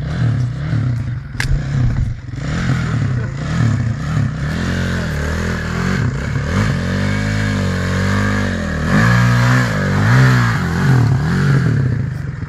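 A motorcycle engine revs loudly and steadily nearby, its pitch rising and falling in repeated surges throughout, with some clattering underneath and no talk over it.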